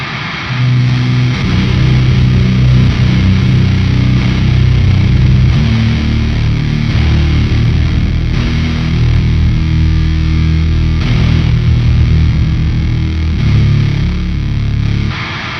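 A sustained droning doom metal electric guitar, thick with fuzz distortion, octave doubling and medium-tail reverb, forms a dense continuous wall of sound.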